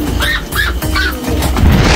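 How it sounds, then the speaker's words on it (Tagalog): A breeder's flock of pigeons, some loose after slipping out of a broken training box, gives three rising-and-falling squawking calls in steady succession over a constant rushing background. "Ang dami ibon ni kuya oh."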